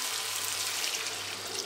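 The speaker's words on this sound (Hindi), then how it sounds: "यहाँ मैं पानी डालूँगी" Water pours steadily into a cooking pot for chana pulao, a continuous near broadband splashing rush with no voices.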